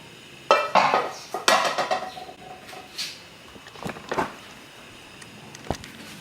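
A cooking pan for making tapa is handled and set down, giving a few loud metallic clanks and knocks early on, then scattered lighter taps and clatter that fade toward silence.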